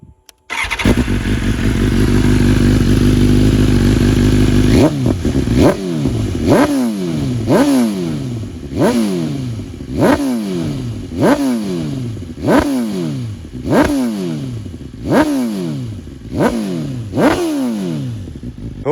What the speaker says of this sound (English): This is a very loud exhaust, right? It's a full titanium race exhaust